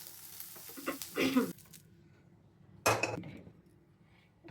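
Roasted peanuts being tipped from a pan onto a plate, two short clattering bursts of nuts and metal with quiet pauses between them.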